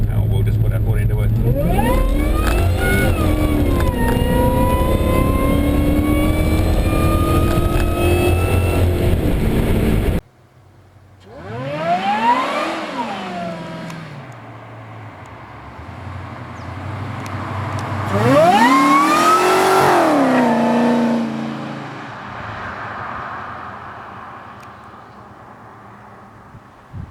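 Supercharged 5.0-litre Holden car accelerating hard from a roll, a loud engine note climbing in pitch, then cutting off before two more rising revving bursts with gear changes and a fading tail.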